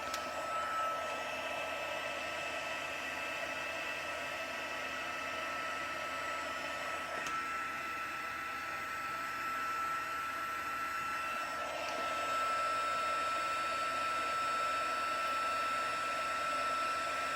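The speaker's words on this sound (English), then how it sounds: "Heat the heat tool up quickly." A heat tool blows a steady, loud, hissing rush of air to melt and set white glitter embossing powder on a handmade card, running continuously throughout and swelling slightly louder near the end.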